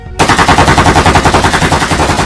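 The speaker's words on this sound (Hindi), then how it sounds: "कांस्टेबल ने मोलोच पर गोलियां चलाईं" Rapid automatic gunfire bursts in a steady, loud rattling stream after a sudden start, continuing without pause.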